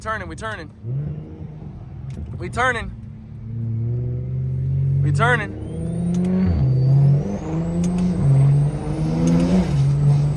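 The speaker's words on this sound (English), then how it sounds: "That's a built motor pushing 700 plus horsepower." Deep, rumbling engine of a built BMW 335i making over 700 horsepower, revving and climbing in pitch, loud and close, with people talking and shouting over it.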